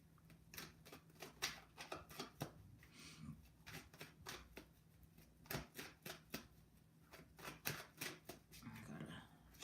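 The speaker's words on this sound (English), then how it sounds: "I gotta shuffle hard." Tarot cards shuffled hard by hand, a rapid run of crisp riffling clicks and flutters in uneven bursts, close and fairly quiet, with no speech over them.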